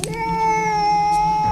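A cat meows in a movie scene, one long sustained tonal cry held steadily for over a second, loud and close.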